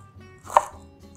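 A knife slices through tightly rolled lettuce leaves, giving one sharp, crisp chop near the middle, close and clear, with no one talking.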